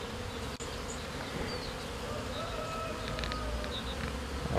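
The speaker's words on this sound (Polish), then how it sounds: "No i pszczółki się ruszyły." Bees buzzing around a small hive made from an August nucleus split, a steady dense hum with scattered nearer passes, continuous and moderately loud throughout, with no talking.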